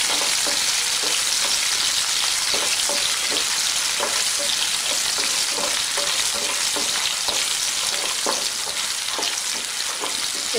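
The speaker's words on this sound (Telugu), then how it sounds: "దీనిలో చిన్నగా కట్ చేసిన పచ్చిమిర్చి, ఇవి కూడా బాగా వేగాలి." Chopped green chillies fry in hot oil with a steady, dense sizzle, punctuated by regular scraping strokes of a stirring spoon against the pan, close and continuous throughout.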